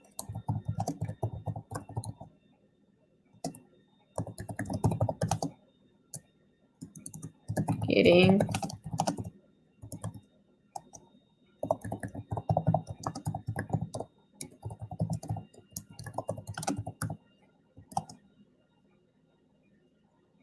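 Keyboard typing during a livestream, a run of quick clicking keystrokes that come in bursts between stretches of casual talk, close to the microphone and partly covered by the voice.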